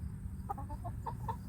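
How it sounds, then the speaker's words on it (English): Chickens on a small farm cluck in a quick run of short, close calls, fairly quiet against a low background hum, with no talking. "Yes, do you have something to say, Mr. Chicken?"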